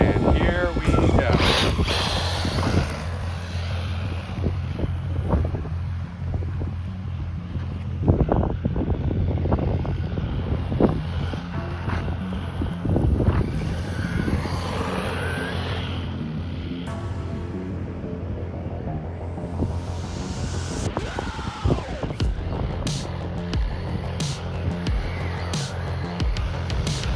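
Rlaarlo X12S RC car driving off-road, a strong electric whine rising and falling with throttle bursts, rough ground scrabbling and wind buffeting on the microphone, with a brief higher rush near the end.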